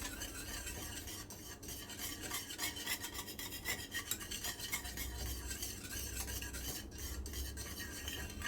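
A spoon scrapes and rubs steadily through a thick pomegranate sweet mixture in a pan, continuous soft rasping strokes with light metallic contact, fairly quiet and without any talking.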